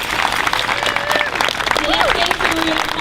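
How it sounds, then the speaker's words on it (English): A festival crowd gives a round of applause at an outdoor community event, a continuous close wash of clapping with cheering whistles and voices mixed in. "Have a big round of applause for Kate."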